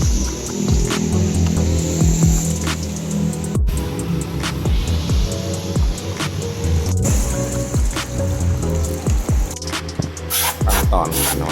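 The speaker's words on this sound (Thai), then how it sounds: "ล้างทำความสะอาดเปลือกตู้แอร์" Water is sprayed over the air conditioner evaporator housing from a Nissan X-Trail T32, making a continuous hiss. A droning motor hum runs underneath, broken by occasional knocks and brief pauses.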